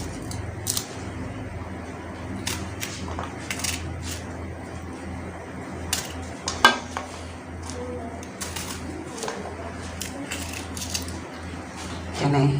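Ridge gourd and other vegetables being cut in a home kitchen, a series of sharp, scattered knife taps and chops spread irregularly across the stretch, fairly close, with birds cooing faintly in the background.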